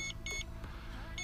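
An Eachine EX4 drone emits repeated short electronic beeps while flying its return-home mode, three bright chirps in quick succession over a steady low background hum, faint and fairly distant.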